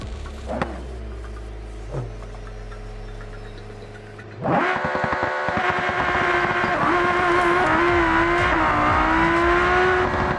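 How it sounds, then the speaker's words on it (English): A supercar drag pass in the BeamNG driving game, with a few short revs, then a sudden loud engine surge that keeps roaring and climbing in pitch as the car accelerates down the strip, with no talking. "Here we go with the final pass of the West Coast drag and drive."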